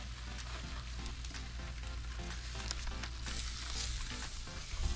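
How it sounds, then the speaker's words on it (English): Rainbow trout fillets sizzle on an outdoor grill over medium-high heat, a faint, even crackle with small pops that carries on steadily throughout, no one speaking. "All I can hear is the cows and the sizzling."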